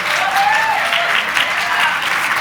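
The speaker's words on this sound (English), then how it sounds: "Can you give the person on your left or your right a big, warm round of applause" Warm round of applause from an evening session audience at a positive psychology talk, steady dense clapping filling the whole stretch at close range, with a faint whistle-like tone rising over it briefly.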